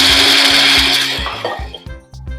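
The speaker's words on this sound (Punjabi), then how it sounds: "ਹੁਣ ਆਪਾਂ ਮਸਾਲਿਆਂ ਨੂੰ ਸਾਰਿਆਂ ਨੂੰ ਪੀਸ ਲਵਾਂਗੇ" An electric grinder whirs loudly and steadily as it grinds spices for red chilli pickle, the motor pitch dipping slightly as the load shifts, then cutting off near the end of the short burst.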